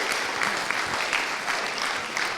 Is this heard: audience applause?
yes